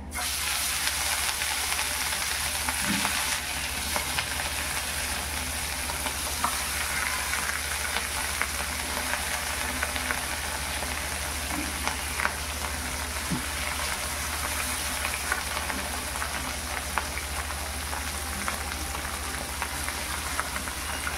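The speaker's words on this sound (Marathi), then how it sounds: "आता मी तुकडी तळायला टाकते" Fresh fish pieces (surmai) frying in a pan of hot oil, a dense, loud, unbroken crackling sizzle lasting throughout with a few faint utensil taps, no voices.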